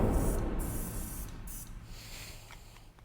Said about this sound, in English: I got right to work spraying away